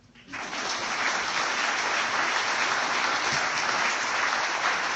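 Sustained applause from an audience at a lecture hall talk, rising sharply after a brief pause and holding steady, dense and loud throughout.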